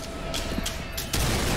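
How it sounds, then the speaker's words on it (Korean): Rapid bursts of gunfire from a first-person shooter video game crackle in short volleys, followed by a louder sustained blast of shots, with no voices. "와, 이 총소리 미쳤다."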